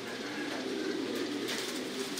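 Pigeons cooing inside a pigeon house on a farm raising birds in the Thai style, a steady low murmur of soft coos close by with faint rustling, and no talking.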